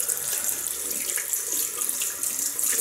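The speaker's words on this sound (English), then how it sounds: "There's the soap, rinsed." Tap water runs steadily into a sink as shaving soap is rinsed under it, a continuous close hiss and splash with no voices.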